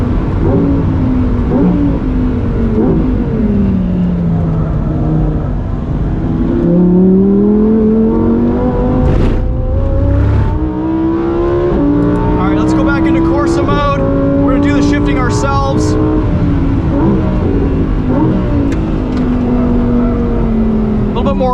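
2023 Lamborghini Huracan Tecnica with its V10 engine revving hard toward an 8,500 RPM redline, climbing and dropping pitch through gear changes, loud and close from inside the cabin, with someone talking over it.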